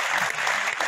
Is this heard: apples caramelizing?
no